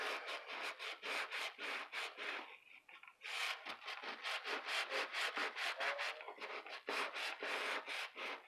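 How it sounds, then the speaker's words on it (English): A fingernail scrapes rhythmically across a shiny tin surface, a rapid run of close, dry rasping strokes with a short pause midway, loud and alone. "If you don't want to scrape it with your nail, then try other ways to scrape it."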